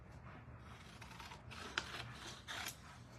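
Scissors cutting apart printed quilt-pattern paper pieces, soft close snips and paper scraping, quiet and steady.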